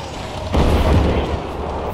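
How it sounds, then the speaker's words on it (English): Artillery cannon shells strike in Empire Total War, a sudden deep boom followed by rumbling impacts and crackling battle noise over a short span, with a voice talking over it. "really good artillery hits."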